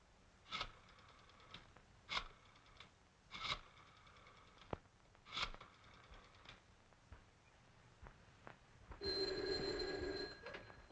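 Old-fashioned telephone bell rings in a short burst inside an office, loud and close, after several sharp knocks or clacks earlier on.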